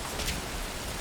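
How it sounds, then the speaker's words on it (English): Rain pouring down in a stealth video game, a steady dense hiss of falling drops with no voices over it. "That rain just won't let up."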